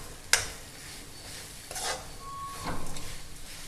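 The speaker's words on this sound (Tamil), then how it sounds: "பெரிய தேங்காய் 1 உடச்சி துருவி வச்சுருக்கேன். இதை வதக்கிக்கலாம்." Grated coconut is sautéed in a pan, heard as a quiet close-up stirring scrape with a sharp utensil clink near the start and soft sizzling rustle that builds toward the end.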